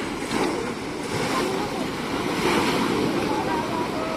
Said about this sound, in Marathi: कसल्या मस्त लाटा येत आहेत ना